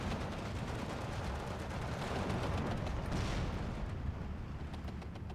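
Mortar and gunfire in the wartime strategy game Steel Division II, 60mm rounds landing amid dense, continuous crackling battle noise at a moderate distance.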